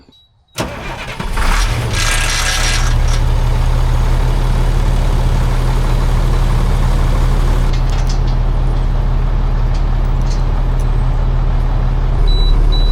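A heavy 1983 spider lift truck's engine idles steadily after starting while its air pressure builds, a loud, constant low rumble with a brief hiss near the start and end.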